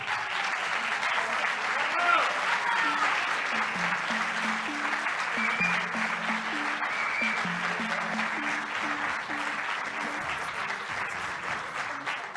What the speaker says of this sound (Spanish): Venga, un aplauso para ella.